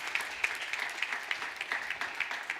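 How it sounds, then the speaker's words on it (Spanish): A church congregation claps in a steady, evenly spaced rhythm, a sustained, moderately loud applause with no voices over it. "Le da ese aplauso"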